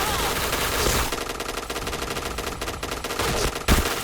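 Rapid automatic gunfire from a shooter video game in a head-hunting mode, loud and continuous with a sharp heavier blast near the end.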